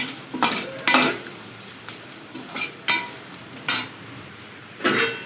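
A spoon scrapes and clinks against a pan while stirring an egg biryani masala mixture with red chilli powder and garam masala, giving about seven distinct metallic strokes over a soft sizzle.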